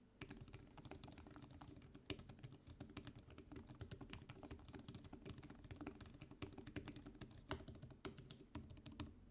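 Typing on the Honor MagicPad 4 keyboard cover, rapid soft clattering keystrokes in an irregular continuous patter, quiet and close, with no voices.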